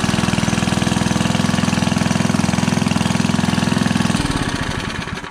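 Small Briggs engine on a John Deere Model 15 pump running dry, a steady close putter with fast regular firing pulses that shifts and slows near the end.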